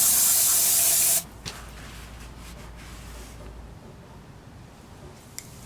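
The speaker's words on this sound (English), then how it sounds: "I'm just gonna spray this out, get it cleaned up a little bit." A loud burst of spray cleaning a Nissan 350Z clutch slave cylinder part lasts about a second, cuts off sharply, and leaves quiet rustling and handling noise behind.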